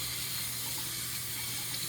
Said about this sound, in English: next we're going to go ahead and just wash the cilantro